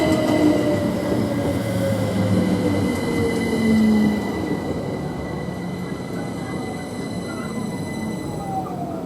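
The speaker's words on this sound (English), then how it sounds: "Now we've got a Great Northern service, which is the 13:27 service from King's Lynn towards London King's Cross." A Great Northern class 387 passenger train, the King's Lynn to London King's Cross service, moves through Waterbeach station with a loud, close rumble and high squealing wheels that ease off over several seconds. No one speaks.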